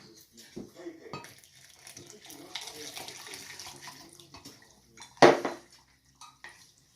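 Boiling water splashes and trickles into a container, one cup poured for lemon meringue pie, with clinks of dishes and a sharper splash near the end; no speech.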